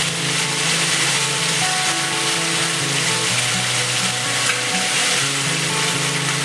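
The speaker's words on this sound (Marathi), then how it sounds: "मसाला छान भाजून झालेला आहे। यामध्ये आपण कांदा लसूण मसाला घालूया।" Roasted onion-garlic masala spices fry in a pan with a loud, steady, close sizzle throughout. Faint stirring sounds blend into the frying noise.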